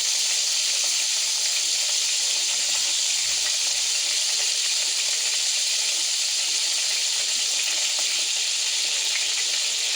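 Whole garam masala spices sizzling in hot ghee, a steady loud hiss and crackle of frying that runs evenly throughout with no voices.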